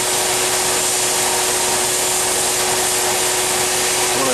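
A part from a Homelite 995D chainsaw is abrasive-blasted inside a blast cabinet, giving a loud, unbroken rushing hiss of air and grit with a steady tonal hum underneath, running without pause for over four seconds.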